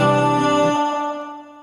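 A singing voice in Logic Pro X drenched in heavy Space Designer stereo reverb: a sustained held note cuts off after under a second, leaving a long, smooth wash of reverb tail fading away.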